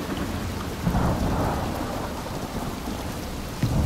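Steady rain pours in the Desperados III game at O'Hara Ranch, with rolling thunder rumbling throughout and a couple of sharper thunder swells near the start and end, wet and dense with no voices.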